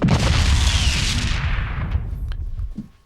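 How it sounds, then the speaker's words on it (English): Explosion sound effect: a loud, dense blast that rumbles and crackles for about two seconds, then fades into a trailing tail with a couple of small pops, heard alone. "That explosion was crazy"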